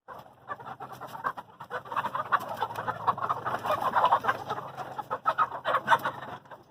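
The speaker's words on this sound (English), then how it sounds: "Oh, there's some escapee chickens down there." A flock of chickens clucks and chatters continuously, many overlapping soft calls at moderate distance with no talking.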